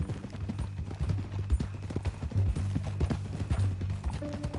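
Horse hooves clip-clop at a steady walking pace in a Red Dead Redemption 2 game scene, moderately faint under a low rumble of background ambience.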